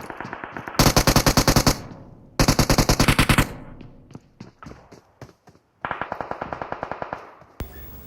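Gunfire from PUBG Mobile, a mobile battle royale game: three loud bursts of rapid automatic fire, each roughly a second or more long, separated by scattered single shots and footsteps.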